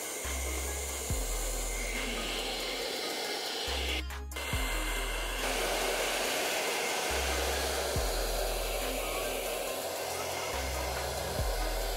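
A Vega Professional hair dryer blows a steady, loud airy whoosh at close range. The motor pitch shifts a few times and there is a brief click partway through, as though a setting is being changed.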